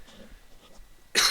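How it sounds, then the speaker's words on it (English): A single sharp cough bursts out near the end after a moment of quiet, close and loud. "Sorry if I cough a lot."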